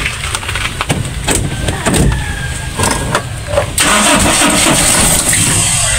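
Car engine with an overheating-damaged cylinder head gasket cranking repeatedly in rhythmic bursts during an attempted cold start, loud and close, then a steadier engine sound follows.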